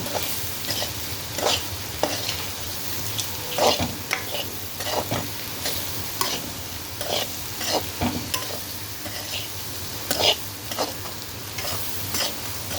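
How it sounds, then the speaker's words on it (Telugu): Carrot and chana dal curry with chili powder is stirred in a sizzling pan, a steady frying hiss with regular scraping and knocking strokes of a spoon throughout, close and fairly loud, without speech. "కొంచెం కారం వేసుకొని మంచిగా కలవాలి"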